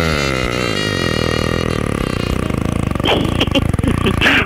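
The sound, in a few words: motorcycle engine running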